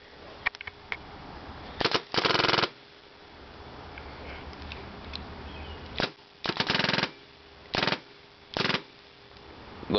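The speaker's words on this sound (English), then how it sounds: "I'm out of paint, so this is going to be the part 2 to the dry firing." Ion paintball marker fitted with a Virtue board, dry firing empty on uncapped ramping mode, giving short sharp bursts of rapid pops with quiet pauses between them, close and fairly loud.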